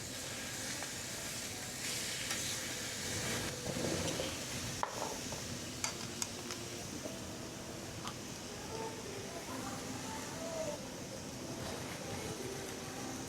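Pork belly and pork neck sizzle on a domed cast-iron grill at a Korean barbecue restaurant, a steady broad hiss and crackle filling the clip with occasional clinks and faint background voices.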